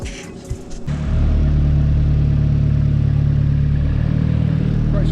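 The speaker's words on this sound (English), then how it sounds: "Great success, we've got idling and everything." Car engine bursts into life after gearbox work and settles into a steady, loud, low idle, close by, following a few seconds of clattering workshop noise.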